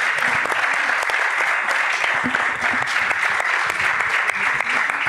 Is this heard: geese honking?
no